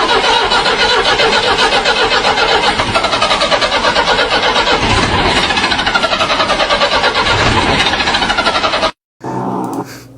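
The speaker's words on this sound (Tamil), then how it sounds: "என்னடா வாழ டிராக்டர் ஸ்டார்ட் பண்ணிக்கிட்டு இருக்காரு." A tractor engine cranks and turns over loudly and continuously with a rapid pulsing chug, then cuts off abruptly before a brief quieter tail.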